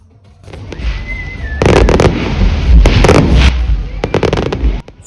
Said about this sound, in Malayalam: ഫയർ വർക്ക്സ് എല്ലാം ആകാശ കാഴ്ചകളാണ്.